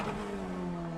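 An F1600 single-seater at Oulton drones close alongside at full throttle with a steady, even engine note, heard from onboard another car.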